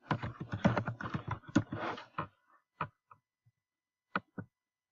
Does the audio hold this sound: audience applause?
no